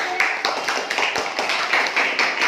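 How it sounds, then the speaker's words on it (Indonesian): A group of students clapping hands in a classroom, a quick run of sharp, close claps in an even rhythm. "Ya, tepuk tangan."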